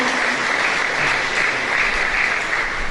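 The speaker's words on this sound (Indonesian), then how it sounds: "mari kita beri tepuk tangan untuk para pengajar praktik kita" A room of teachers at a teacher-training workshop and harvest festival applauds the practice instructors with even, sustained clapping from many hands, fairly loud and unbroken for the whole stretch.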